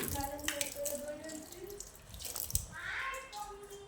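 Water runs and splashes steadily as feet are washed outside before going into the house, with people talking over it.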